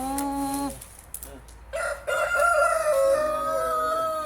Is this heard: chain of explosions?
no